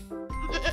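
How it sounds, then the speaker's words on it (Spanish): A goat bleats in one short, wavering call that rises at the end, heard up close with no talk around it. "las cabras"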